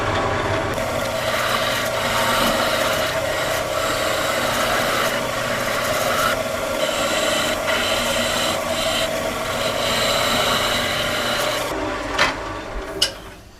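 A wooden lighthouse Christmas ornament spins on a lathe while a tool cuts just above its base, giving a steady, close scraping rasp over the motor's hum, with a few sharper knocks near the end.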